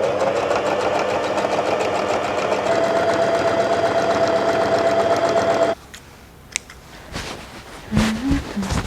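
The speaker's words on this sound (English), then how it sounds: "now I'm going to jump into sewing" A sewing machine stitches fabric seams in a steady, continuous whir with a rapid needle rhythm, then cuts off, leaving a quiet room with a few small clicks and shuffles.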